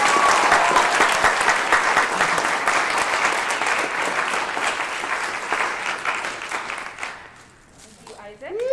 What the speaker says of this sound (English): I'd really just like to give them a big round of applause.